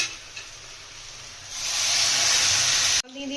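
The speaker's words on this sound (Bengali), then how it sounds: "তার ডবল পরিমাণে জল দিয়ে দেবো যে মা এটাই মাপে জল দিয়ে দিচ্ছি" Water poured into a pot of rice for khichuri, a steady rushing hiss that swells and holds for over a second before cutting off abruptly, close and fairly loud.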